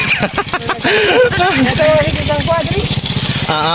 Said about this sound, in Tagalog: Ihatid ako ng motor na ito